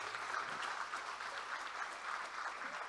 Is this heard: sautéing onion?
no